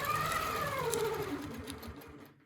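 A sewing machine stitches a heart shape along a Westalee template, its close motor whine sliding downward in pitch over a steady rhythmic stitching patter, with no one talking.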